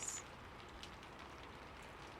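Soft, steady rain patters gently and evenly, faint and close, with a small brighter tick at the start and no voices.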